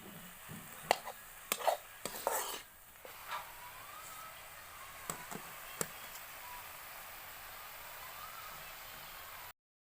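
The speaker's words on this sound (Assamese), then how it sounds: "বইল আলুকেইটা এনেকৈ মিক্স কৰি দিওঁ" Pork and boiled potatoes stirred together in a pan, with several sharp spoon scrapes and knocks in the first few seconds over a soft, steady sizzle that carries on more quietly afterward.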